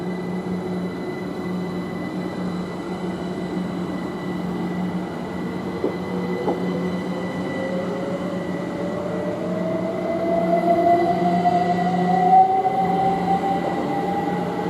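Train pulling out from Potters Bar station on the East Coast Main Line, a Cambridge service in purple livery, with steady rolling rumble and a rising whine that climbs and grows louder as it accelerates away.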